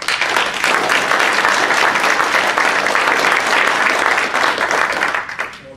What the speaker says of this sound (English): Please join me in a round of applause for our panel.